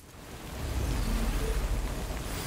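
Steady rain in the game Death Stranding hisses, swelling from quiet to a fuller wash with a low rumble underneath; no voices.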